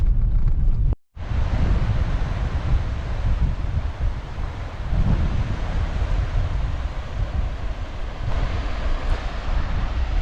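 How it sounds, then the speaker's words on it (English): Steady rushing flow of the middle fork of the Boise River in the Idaho backcountry, a broad continuous wash of water noise with wind buffeting the microphone, after a brief dropout near the start. "This is the middle fork of the Boise River."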